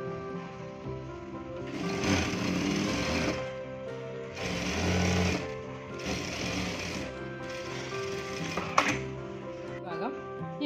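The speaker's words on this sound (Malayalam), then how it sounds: "ബാക്ക് പീസ് നമ്മളിങ്ങനെ വെച്ചിട്ട് നല്ല ഭാഗം കൊണ്ട് വെച്ചിട്ട് ഇതിലൂടെ ഒന്ന് സ്റ്റിച്ച് ചെയ്യുക." A sewing machine runs in several short stitching bursts along the back piece of cigarette pants, close and fairly loud, with a person talking between and over the runs.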